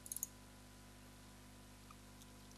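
A computer mouse clicks four times in quick succession at the very start, sharp and close, during a Windows 7 to Windows 11 upgrade on a PC, then a quiet hum remains.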